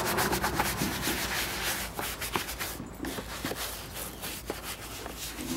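Soft porous rag rubbing over a leather saddle in steady, repeated swishing strokes, a continuous close scrubbing texture with small pauses and no talk.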